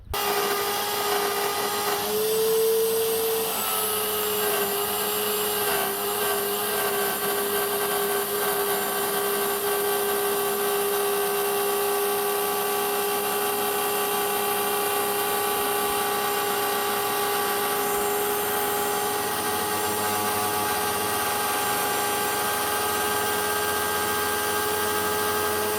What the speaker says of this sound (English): I'll just use this sort of bit, I don't know what it's called, it's a trim cutter